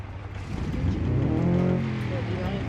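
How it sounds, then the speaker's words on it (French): The Volkswagen Beetle's engine in BeamNG.drive is cranked over and catches, rising into a building rumble that peaks midway and then settles, with a voice talking over it. "On essaye de démarrer."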